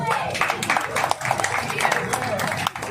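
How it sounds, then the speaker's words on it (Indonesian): A crowd at a gathering in Manado applauds steadily for about three seconds, a busy spread of claps at moderate distance that eases off briefly near the end. "Kita kasih tepuk tangan dulu."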